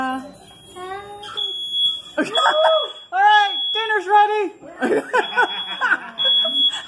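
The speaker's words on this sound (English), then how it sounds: "That's the fire alarm." A fire alarm at a home birthday party, set off around the candles, holds a high, steady electronic tone through most of the moment, under lively talk, cheering and laughter.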